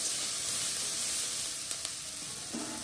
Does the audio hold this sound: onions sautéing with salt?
yes